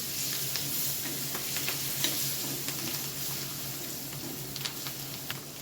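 Coriander and curry leaves frying in a pan over low gas with Kashmiri red chilli powder and turmeric, a steady close sizzle with occasional stirring scrapes and no talk.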